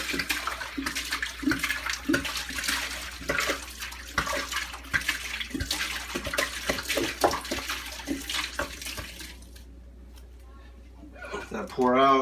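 Leftover liquid from a Dead Guy Ale homebrew kit, sanitizer with foam, is poured out to a drain, giving a steady splashing water sound that runs for about nine seconds, then fades to quiet before a brief louder rush at the end.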